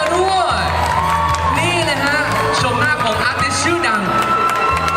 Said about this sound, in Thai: ขอเสียงปรบมือ ให้กับพี่เพนเทอร์